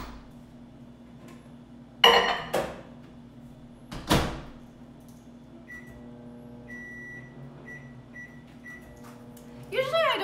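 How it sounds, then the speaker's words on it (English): A microwave oven melting oil: two sharp door thuds, then a steady low running hum, and a series of short electronic beeps near the end. "I'm gonna melt this in the microwave."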